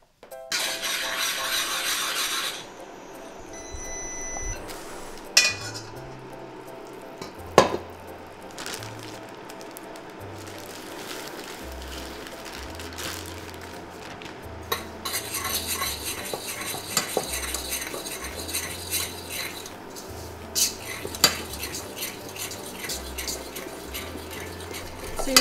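A spoon stirs melting marshmallows into brown butter in a pot, giving soft, sticky scraping and squishing strokes in a slow repeating rhythm, close up, with occasional light clinks against the metal.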